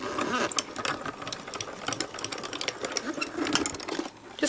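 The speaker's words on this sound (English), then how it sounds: "I'm going to run it through my machine with a well-loved folder in there." A die cutting machine cranks a card through a well-worn embossing folder, giving a steady grinding, rumbling mechanical run with rapid ticking texture throughout, close and fairly loud with no talk.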